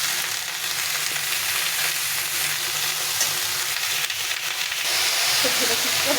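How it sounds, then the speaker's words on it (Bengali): Chopped mixed vegetables fry in hot oil in a pan, giving a continuous close, loud sizzle and hiss with faint stirring scrapes and no voices throughout. "তো চলো আমি প্রথমে একটু ভালো করে ভেজে নিই।"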